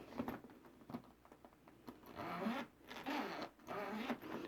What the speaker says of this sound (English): Nice zippers too. Nice thick teeth on that. Just glides.